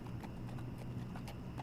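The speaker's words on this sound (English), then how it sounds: "Horse." Horse hooves clip-clop in a steady rhythm in the video game The Walking Dead: The Final Season, moderately close over a constant low background rumble.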